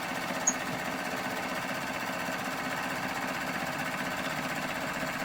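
A sewing machine stitching fabric for a throw pillow, running steadily with a constant whirring drone and no breaks throughout.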